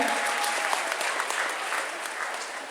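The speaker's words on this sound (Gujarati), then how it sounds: "એમને તાળીઓ દ્વારા વધારે લઈશું આપણે બધાએ" An audience at a community student honour ceremony claps for high-scoring students, a dense, steady round of applause from many hands that fills the hall and fades slightly toward the end.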